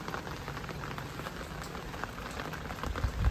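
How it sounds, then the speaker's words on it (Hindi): Steady rain falls on a garden with rain lilies, a dense, continuous patter close by that swells slightly near the end, with no voices. "बारिश हो रही है"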